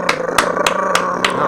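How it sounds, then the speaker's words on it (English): A giant game show prize wheel spinning, clicking in a steady rhythm of sharp ticks over a low mechanical hum. "wow, the wheel is very loud"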